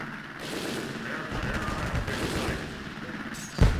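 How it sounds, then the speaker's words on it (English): Naval anti-aircraft guns fire in a video game naval battle, a dense, continuous rattle of rapid shots with a louder heavy boom near the end. "Aircraft in sight. Open fire. Let him have it."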